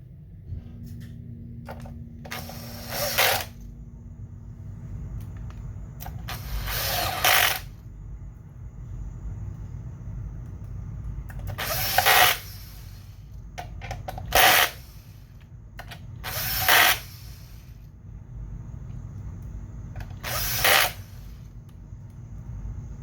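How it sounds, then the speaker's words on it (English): A T10 bit driving short screws into an Xbox Series S during an HDMI repair, with several separate bursts of close whirring and ratcheting spread across a quiet background, each lasting about a second. "take our T10 bit and put in the shorter screws that hold those in"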